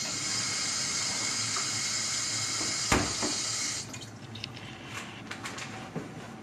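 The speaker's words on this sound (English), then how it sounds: "all the water kind of like runs off it" Water sprays onto a water-repellent shoe and runs off steadily like a tap, with a sharp knock midway, then stops, leaving scattered drips and small splashes.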